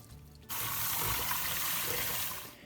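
Water runs steadily from a tap into a sink, where dehumidifier coils are being soaked; the flow switches on abruptly and continues as a loud, even rush with no talking.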